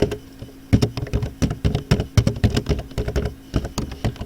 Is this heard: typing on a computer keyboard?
yes